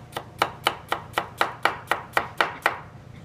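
A knife chops an onion into julienne strips on a cutting board: about ten crisp, evenly spaced cuts in a steady rhythm, close and clear, with no talk.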